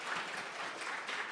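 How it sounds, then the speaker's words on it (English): A symposium audience applauds the panelists and moderator at a law review event, a brief burst of dense clapping heard from a distance at a fairly low level. "give our panelists and our amazing moderator a round of applause"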